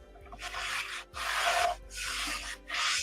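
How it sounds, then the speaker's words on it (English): Hand rubbing with 2000 grit sandpaper on a chalk-stencil craft piece, four long back-and-forth scratchy strokes separated by brief pauses, close and fairly loud. "I think this is like 2000 grit sandpaper"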